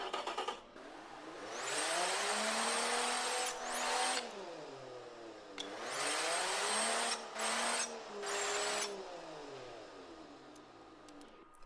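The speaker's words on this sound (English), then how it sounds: "you'll hear it's just all turbo" Turbocharged engine of an 80s muscle car in the Automation game, run with little muffling, revs up and down in several long whining pulls with a strong turbo hiss, loud and close, without talk.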